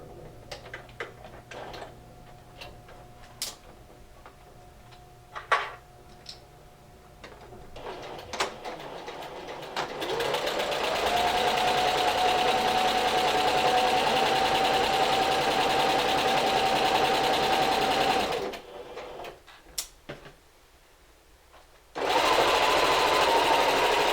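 Sewing machine stitching a fleece robe seam. Faint ticks and handling come first, then a steady, fairly loud run of stitching. A pause follows, and a final burst of stitching comes at the end.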